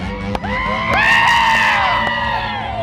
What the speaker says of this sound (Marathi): प्रचंड जल्लोष चालू आहे